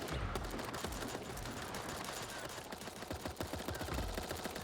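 Gunfire from a sniper rifle in the video game Super Animal Royale: rapid, quiet cracks in dense bursts across the whole stretch.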